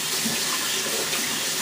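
Running sink tap water pours steadily as hands are rinsed, a loud continuous splashing hiss heard close with no talk.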